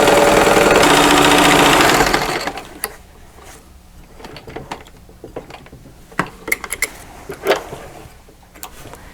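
A sewing machine runs loud and steady for about two seconds while quilting fabric for a zippered boxed pouch, then stops, leaving scattered small clicks and handling taps.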